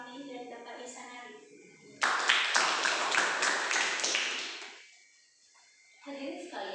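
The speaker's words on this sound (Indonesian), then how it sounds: "berikan tepuk tangan yang meriah kepada Dewan Juri kita, kepada Bapak Mustafa Amin dan Bapak Isanari" An audience at a formal event applauds for a judging panel, a burst of clapping of about three seconds that fades out, with a voice speaking before and after.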